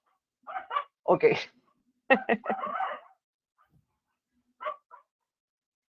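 Dogs fighting outside, yelping and barking in short, sharp bursts at a distance, with a single brief spoken word in between and quiet gaps.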